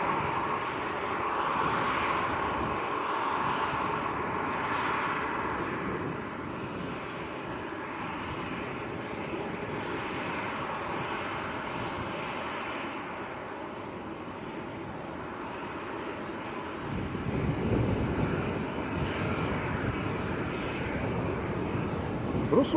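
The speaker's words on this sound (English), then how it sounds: "Ryanair, about to line up." Airliners at Manchester airport, a Ryanair jet lining up and an EasyJet on short final, give a sustained engine drone that fades slightly and then swells again near the end, with wind buffeting the microphone.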